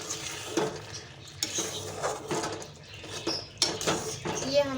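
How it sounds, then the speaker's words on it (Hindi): A metal spoon scrapes and clinks against a pot as chickpeas are stirred into fried masala, with repeated clatters and a faint sizzle underneath, close by while a person talks. "ये हम चने मिक्स कर रहे हैं मसाले के अंदर"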